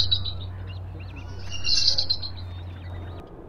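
Bald eagles gathered on fence posts in the Salish Sea region give high, thin chirping calls, a short series of piping notes rising to a louder burst midway over a steady low hum.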